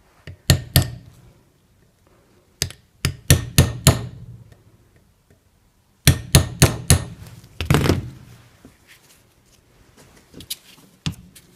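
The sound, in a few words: hammer tapping on Toyota Rav4 CV axle boot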